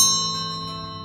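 A short notification bell chime rings once, bright and clear, then decays smoothly with a lingering tone.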